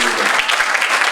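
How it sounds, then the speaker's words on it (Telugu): Schoolchildren and audience at a school Independence Day event clapping for a doctor, a loud, close, continuous burst of applause. "క్లాప్స్ కొట్టి సార్ని అభినందిస్తున్నాము"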